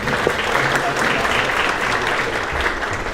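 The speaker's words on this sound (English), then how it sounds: "So give them a round of applause." Audience at a leadership event applauding, a steady, dense clapping from a sizable crowd throughout, close and full, with no speech over it.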